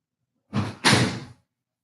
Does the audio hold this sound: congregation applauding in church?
no